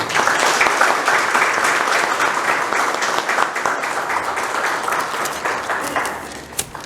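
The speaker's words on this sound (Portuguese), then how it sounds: "uma salva de palmas, nossos fundadores" An audience at a spiritist center's 45th anniversary lecture bursts into sustained applause, dense and loud clapping from many hands that holds steady for several seconds before tapering off at the end.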